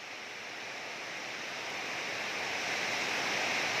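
Heavy rain pouring down in a dense, steady hiss that swells slightly louder over a few seconds, with no voices.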